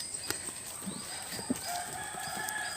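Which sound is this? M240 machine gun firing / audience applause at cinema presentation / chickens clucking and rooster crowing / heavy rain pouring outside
chickens clucking and rooster crowing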